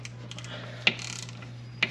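A hand ratchet loosens a 13 mm brake caliper bolt on a 2021 Dodge Charger Hellcat. Two sharp metallic clicks, about a second apart, sound close over a low steady background hum.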